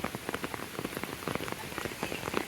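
Dense, heavy rain drums on a surface nearby in a village, a continuous patter of drops with no voices.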